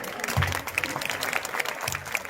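Audience applause at a school annual day function, a steady patter of clapping from a gathered crowd, moderately loud and continuous, with faint voices mixed in.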